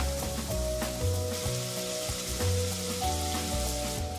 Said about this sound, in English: Now we'll get the cassoulet on. Again, hot pan. We've got onion, carrot, celery.